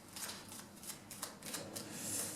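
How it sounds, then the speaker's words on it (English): A deck of cards is shuffled during a tabletop board game, giving a soft, quick papery riffling with several brief flutters in a row, faint and close, with no one speaking. "Just let me shuffle it and take 1."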